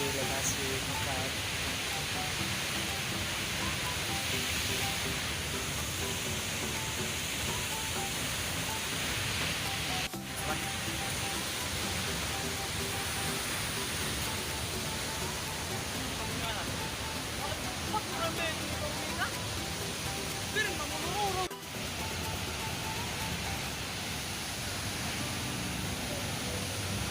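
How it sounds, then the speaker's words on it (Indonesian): Steady broadband rush of Pollung waterfall, a remote waterfall in the Pakat area, roaring continuously at close range with no break; a voice talks faintly over the falling water. "inilah air terjun Polong yang berada di lokasi Pakat."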